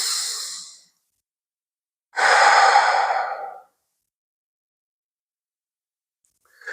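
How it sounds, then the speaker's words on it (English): A slow, deep cleansing breath at the close of a yoga class: a long airy inhale near the start, then a fuller, louder exhale about two seconds later, with quiet stillness between and after. "We'll end the class with a deep cleansing breath in and out."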